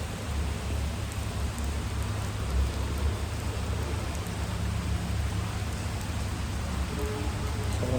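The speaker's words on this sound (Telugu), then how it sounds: "వర్షం అయితే సాలిడ్గా వస్తుంది" Heavy rain falls on platform number 1 of a railway station, a dense, steady hiss of drops on surfaces with a low rumble underneath, constant and unbroken throughout.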